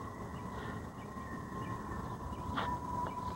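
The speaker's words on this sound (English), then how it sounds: "I hear trains" A train passes at a distance, a faint steady rumble of rolling wagons with a sustained tonal hum and a brief higher squeal near the end.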